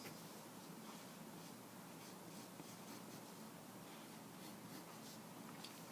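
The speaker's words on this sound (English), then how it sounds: "So you can use a pencil to kind of make it nice." A pencil scratches on paper in a quiet, continuous faint scribble while someone works through analytic geometry, close up, with no speech.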